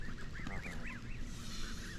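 Geese honk repeatedly in a rising, wavering series near a fishing spot in Fairmont, West Virginia, fairly close and clear over steady outdoor background noise.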